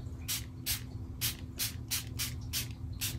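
A hand-pumped spray bottle of alcohol squirts in eight short, crisp bursts spaced about half a second apart, each a bright airy hiss over a low steady hum, close to the mic, used for wetting a pastel background.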